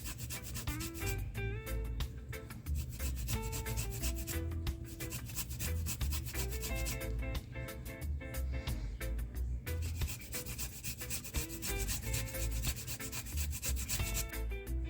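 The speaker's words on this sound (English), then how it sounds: "So okay guys, I finished grating my ginger." Fresh ginger is grated by hand for a Jamaican ginger bulla, giving continuous close rasping strokes in a steady rhythm throughout.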